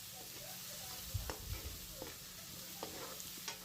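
Tomatoes cooking down in a pan of village-style tripe curry, with a soft steady sizzle and a few faint spoon scrapes and clinks scattered through.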